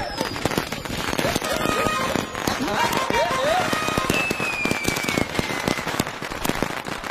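Firecrackers go off in a dense, continuous string of sharp bangs and pops at a celebration, with people shouting and talking over the crackling barrage.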